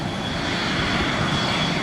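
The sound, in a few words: fighter jet flying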